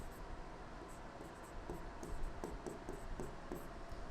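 Chalk or marker scratches across a board in a physics classroom, with short, faint strokes repeating in an irregular rhythm over a low background hiss.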